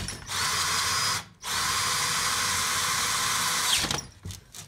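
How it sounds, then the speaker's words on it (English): A power drill bores through a cast locker differential part full of inclusions, grinding steadily, briefly cutting out when the bit snags, then running on before winding down nearby. "It's drilling lovely 1 minute and then it just snags, you can see."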